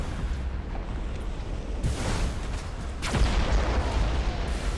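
Heavy cannon broadsides and explosions in the space-battle game Battlefleet Gothic Armada 2, with a dense rumbling bed and two big booming blasts bursting out about two and three seconds in, loud and close.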